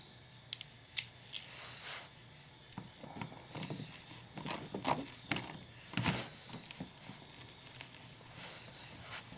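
Ratchet working on 7mm bumper bolts under a car, giving faint, irregular clicking and metallic scraping in short bursts with quiet handling sounds between.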